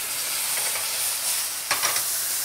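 A hot frying pan with lightly browned peppers hisses steadily and loudly as a splash of wine goes in, with a brief sharper burst of sizzling and crackle near the end.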